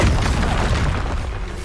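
Hogwarts Legacy spell combat as the Incendio fire spell is cast, producing a dense, loud rushing burst of flame with a heavy low rumble that fades slightly toward the end.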